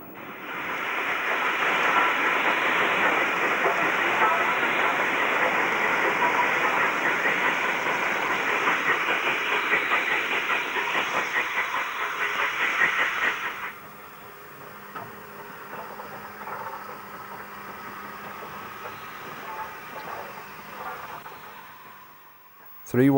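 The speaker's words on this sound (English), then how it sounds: "More empty stock arrives and Tamar Valley propels its train up to Branksome." Steam locomotive Tamar Valley propels a train of empty stock uphill toward Branksome, a loud sustained chuffing and rumble that abruptly drops to a quieter distant rolling, with a sudden noise at the very end.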